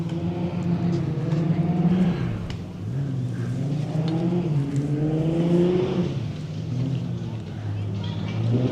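A rally car is driven hard offroad on the Road Runner stage of Cliffhanger 2025, its engine loud and close, revving up and down repeatedly over continuous rumbling road noise.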